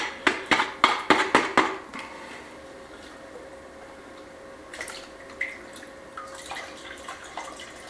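Water and lime are scooped into a pot: a quick run of sharp splashing and clinking pours at the start, then quieter scattered drips and small knocks follow in a still room.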